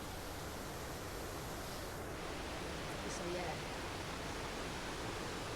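A waterfall rushes as a constant, loud, broadband roar close by, filling the whole stretch without letup, while someone briefly speaks over it.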